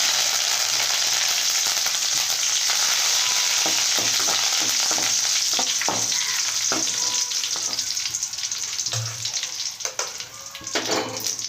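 Chillies, garlic and curry leaves fry loudly in hot oil for a cucumber chutney, a dense continuous sizzle broken by repeated stirring scrapes and clicks of a spoon against the pan.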